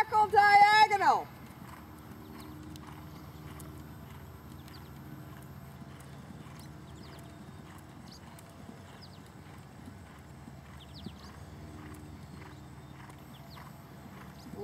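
Horse hooves cantering in a riding arena, faint rhythmic thuds continuing steadily under room noise after a brief loud burst of voice at the start.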